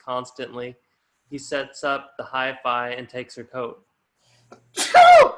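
A single sharp sneeze bursts out near the end, right after a calm narrating voice reads aloud.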